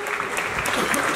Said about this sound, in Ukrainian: Давайте будемо проводжати великими оплесками наших гостей.